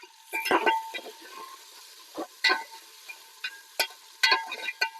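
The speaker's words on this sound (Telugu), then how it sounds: "ఆనియన్స్ కానీ మిర్చి కానీ ఎక్కువ ఫ్రై అవ్వద్దు, వేగితే చాలు" Onions and six or seven green chillies fry in a pan for chicken fry piece biryani, stirred in short scraping bursts over a steady low sizzle, close and fairly quiet, with no one talking.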